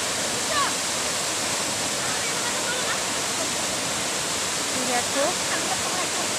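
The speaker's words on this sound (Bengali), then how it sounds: "ঝর্ণার গতি, ঝর্ণার আওয়াজ দেখো।" Waterfall at Ranchi pouring down onto the water below, a steady, loud, close rushing roar that fills the whole clip without a break, with brief voices of people talking over it.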